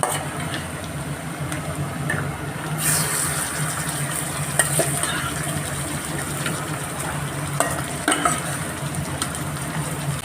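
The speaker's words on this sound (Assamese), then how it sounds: "মেৰিনেট কৰি থোৱা মাংসখিনি দি দিছোঁ" Marinated chicken sizzles in a pan with a bay leaf, a continuous frying hiss carrying through with occasional scrapes and clicks of stirring and a low steady hum underneath.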